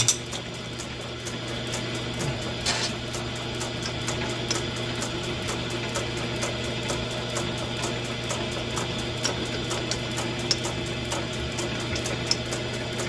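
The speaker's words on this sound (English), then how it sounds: "Try to drill this out" A power drill grinds continuously at a steady pitch, boring into a metal jet boat helm shaft, with occasional sharp ticks and scrapes as the bit bites into the hard material.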